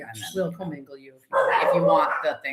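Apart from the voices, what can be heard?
dogs barking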